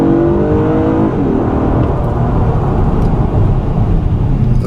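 A 2015 Acura TLX with a 3.5L SH-AWD engine accelerates from a stop, its rising engine note and whir loud and close as the revs climb and hold, with no talking.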